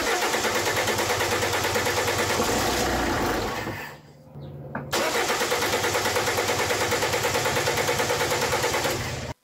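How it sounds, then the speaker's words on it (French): A car engine cranks and tries to catch after a long stretch of hand-pumping fuel, a loud continuous churning roar that drops out briefly near the middle, then resumes steadily until it cuts off abruptly. "le moteur il a un peu essayé de démarrer"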